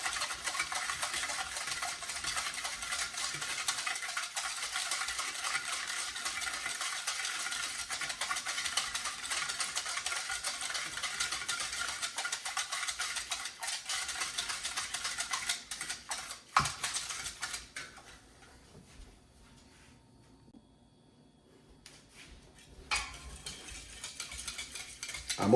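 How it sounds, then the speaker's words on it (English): Sugar and almond essence being stirred into a Jamaican cornmeal pudding mixture, a steady gritty scraping of a spoon against the bowl that runs continuously, then pauses briefly before a few final strokes. "you just want to give this a thorough mix until the sugar granules"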